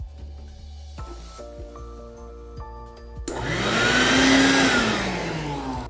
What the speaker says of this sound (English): So with a shop vac, you have one side that blows out air and one side that sucks in air.